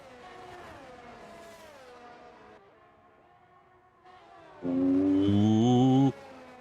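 Race car engines in a Formula racing video game whine and shift pitch as cars pass and accelerate, a layered harmonic drone that dips quieter midway before one engine roars in loud and close near the end.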